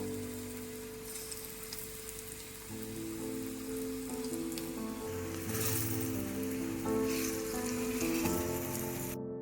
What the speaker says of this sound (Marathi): या फ्राईंग पॅनवर एक एक एक एक करून आपल्याला फ्राय करून घ्यायचे आहेत